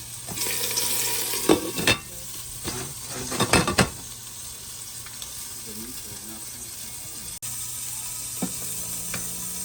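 Rice and onion frying in a pan for Spanish rice, a soft continuous sizzle broken by a few sharp clatters of stirring and scraping, with a faint hum of a kitchen in the background.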